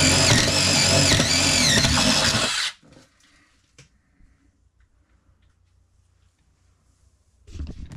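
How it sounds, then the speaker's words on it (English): A power drill boring a hole through a wooden beam in a small Alaska cabin to route wiring: a loud, high whine for under three seconds, then near silence with a faint knock and a short noise at the end. "I got to drill a hole through that beam right there"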